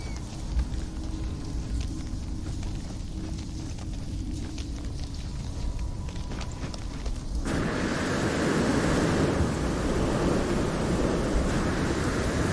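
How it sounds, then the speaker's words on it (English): A storm in the video game No Man's Sky rumbles with steady rain and thunder, the noise swelling suddenly louder and denser partway through and then holding as a heavy, continuous roar. "Yikes, this storm, but there's a rainbow."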